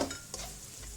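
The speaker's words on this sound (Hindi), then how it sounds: "कम से कम फिर भी 2-3 मिनट तो लगेंगे इसे फ्राई होने में" Chicken pieces for chili chicken fry in a pan while being stirred, a faint sizzle with a couple of brief scraping strokes, close but quiet and very short.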